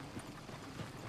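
Horse hooves clip-clopping at a steady walking rhythm in Red Dead Redemption 2, set against a constant loud background bed with no talk over it.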